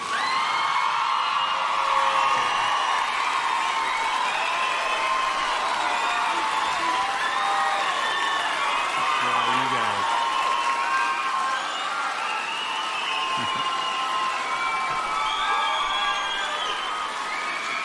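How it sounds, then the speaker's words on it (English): A large audience at a military cadet commencement ceremony applauds and cheers, with continuous dense clapping, whoops and shouts sustained throughout and a few voices calling out within the crowd. "let's give them one more round of applause"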